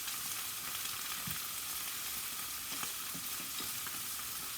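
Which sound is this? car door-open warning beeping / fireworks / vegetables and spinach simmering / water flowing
vegetables and spinach simmering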